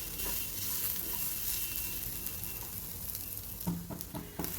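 Coconut slices and masala dry-roasting in a pan for a pigeon pea khandoli curry, giving a steady close sizzle with a few louder stirring scrapes near the end.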